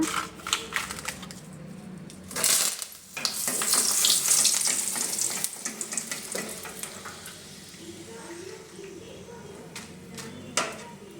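Dried red chillies drop into hot oil in a home kitchen pan for a fried poha snack, setting off a sudden loud sizzle that surges for a few seconds, then eases into softer crackling with occasional utensil clinks.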